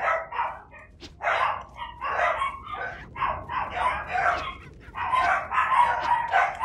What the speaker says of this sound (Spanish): Perritos, por favor, cálmense, perritos. Los perros están asustados por el juego.